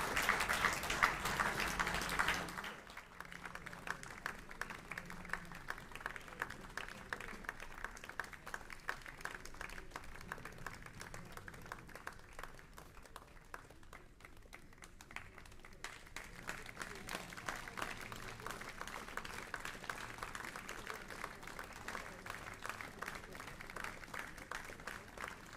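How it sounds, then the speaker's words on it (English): A concert hall audience at the 2023 Bolsover Festival of Brass championship section claps for a brass band, a dense and sustained burst of applause that is loudest at first, then continues steadily for the rest of the clip. "And with that, the applause is going"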